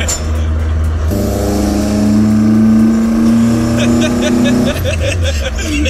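A loud Toyota AE86 Trueno's individual-throttle-body 4AGE engine drones inside the cabin on mountain roads, its pitch climbing steadily as it revs higher, then dropping off, with people talking over it.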